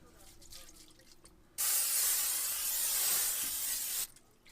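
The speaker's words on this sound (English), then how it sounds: "Just got some vegetable oil. Gonna spray it down." A steady aerosol spray of vegetable oil onto a Weber Jumbo Joe charcoal grill hisses for about two and a half seconds, close up, starting abruptly and cutting off cleanly, with quiet background before and after.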